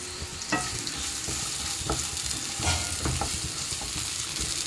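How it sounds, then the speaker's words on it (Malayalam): Coconut and small shallots sautéing in a pan for a chicken curry give a steady, moderate sizzle, with occasional sharper scrapes of a spoon stirring through them. "ഇനി നമുക്ക് ഇതൊന്ന് മൂപ്പിച്ചെടുക്കാം"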